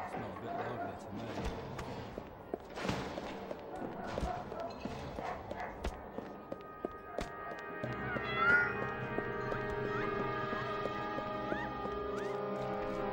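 Cat meows in the video game Alice: Madness Returns on PS3, a few short mewing calls over ambient game music and effects, at moderate level, with occasional speech nearby.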